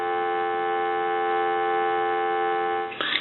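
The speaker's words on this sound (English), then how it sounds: "I'm going to give you some dial tone." Steady telephone dial tone on a repaired Wedgewood rotary phone line, a continuous even hum held at constant loudness, ending with a faint click.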